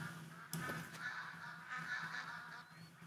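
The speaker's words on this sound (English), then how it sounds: "Oh, the sounds of ducks and geese" Ducks and geese calling in the hunting game The Hunter: Call of the Wild, a steady chorus of honks and quacks that carries on without a break, with a sharper honk standing out near the start.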